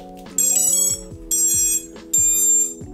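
Three bursts of high, bright electronic startup beeps from an FPV drone's speed controllers in quick succession, each over a lower buzzing whine, loud and close with short gaps between.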